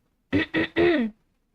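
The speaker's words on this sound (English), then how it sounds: "It sounds really creepy whenever I start like coughing and stuff" Three quick throat-clearing coughs in a row, close and fairly loud, the last one longer and rougher, with silence around them.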